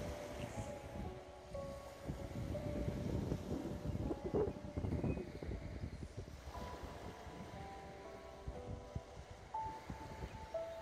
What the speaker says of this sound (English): The flow of water coming in, then rushing off.